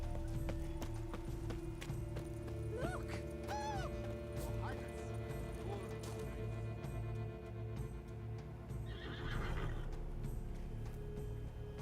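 Horse hooves clip-clop steadily in The Witcher 3: Wild Hunt's Blood and Wine expansion, with a couple of short whinnies partway through, set over a humming game soundtrack and some talk.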